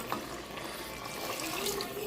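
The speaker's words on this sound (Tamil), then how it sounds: "நல்லா தண்ணி ஊற்றி வைக்கலாம்" Water pours steadily into a cooking pot during outdoor village preparation of chicken biryani, making a continuous close splashing rush with no talking.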